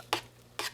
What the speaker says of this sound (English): While that's cooking, make sure to stir your chili.